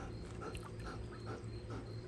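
A dog pants hard and out of breath on a pool day, with quick, rhythmic, breathy huffs close by over a low background hum.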